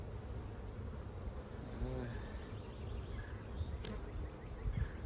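Honey bees buzz steadily around an open hive during an inspection, a dense continuous drone with a few individual bees passing close by, while low handling noise rumbles underneath.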